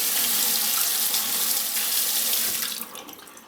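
Tap water runs steadily and loudly through a sieve full of tomato seeds, a continuous close splashing rush that eases off toward the end.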